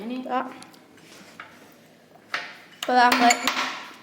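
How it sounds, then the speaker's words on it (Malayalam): A spoon clinks and scoops against a dish while someone takes sugar during a mango eating challenge, a few sharp metallic taps bursting out near the end between stretches of talk. "കുറച്ച് ഞാനൊരു സ്പൂണും കൂടി എടുത്ത് ഇടുകയാണ്"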